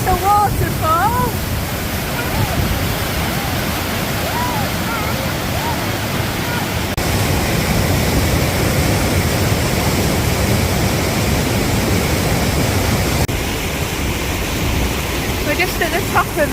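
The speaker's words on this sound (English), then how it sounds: "Now that's a waterfall." A waterfall on the Ogwen trail in North Wales roars as a dense, steady broadband rush close by, with a voice speaking briefly over it near the start.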